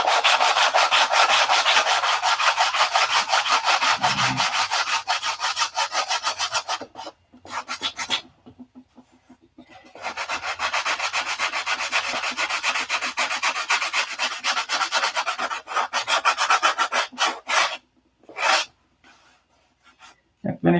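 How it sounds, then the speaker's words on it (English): Back-and-forth rasping of a homemade 180-grit sanding block, sticky-back sandpaper on a small square wooden block, worked over wood in steady close strokes, with a couple of short pauses and a final burst of scrubbing. "this is my 180 sand block"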